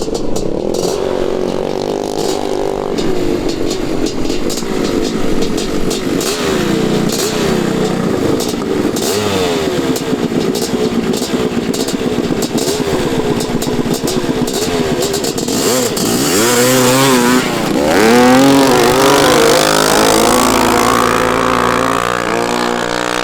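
A worn Honda CR500 two-stroke motorcycle rips through sand drag racing, its engine revving hard and rising in pitch through gear changes, loud and close for the full run with no talk over it.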